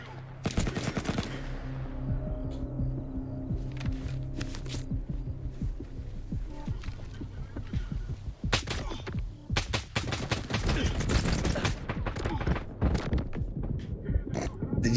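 Heavy gunfire from a video game firefight, dense bursts of automatic fire and rapid shots rattling almost continuously over a low hum, with a lull in the middle before the firing surges loud again.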